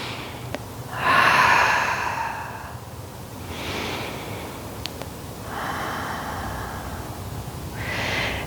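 Slow deep breaths during a Pilates stretch: long, loud nasal inhales alternate with softer, breathy mouth exhales, about three cycles, close and with no talking.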